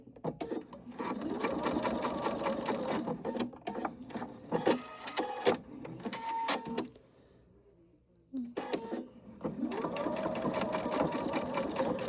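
A sewing machine stitches a fabric freezie wrap with a steady, close motor whir, interrupted by clicks and a brief near-silent pause before running smoothly again.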